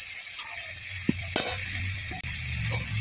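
Green tomatoes with salt and turmeric, added to onions and green chillies, stirred in a pan, giving a steady hiss of sizzling with a few short scraping strokes, close and without talk.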